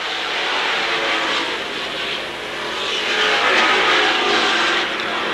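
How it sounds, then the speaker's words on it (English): Pro Stock race cars roaring around the oval at Seekonk Speedway in 1986, a dense sustained engine drone that swells and fades as the pack passes, distant and continuous with no voices. "Ray Lee in the number 40 takes the lead."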